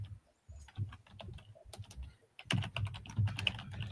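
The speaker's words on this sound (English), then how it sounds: "I'm gonna start typing names." Fingers clatter on a computer keyboard in quick bursts of keystrokes, broken by brief pauses, close up with no speech.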